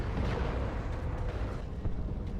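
Tank Buster barrage explosions in the Warhammer 40,000: Dawn of War 2 video game, Ork battle against Tyranids: dense, continuous rumbling blasts and booms that overlap steadily without pause.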